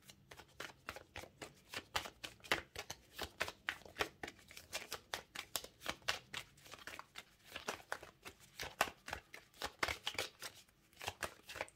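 Tarot cards being shuffled by hand, a rapid, fairly quiet run of papery riffles and flicks in uneven bursts, continuing for about twelve seconds with no talk.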